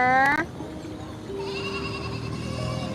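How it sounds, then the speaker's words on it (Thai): A sheep bleats once, loud and close, a short wavering cry at the start, followed by quieter steady background hum and faint tones during an indoor livestream. "มีเสียงแกะร้องด้วย"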